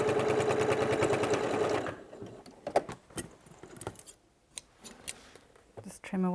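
A sewing machine stitches backward and forward across the top of a pocket on a fabric tool belt for about two seconds, followed by scissors snipping loose threads and light handling clicks.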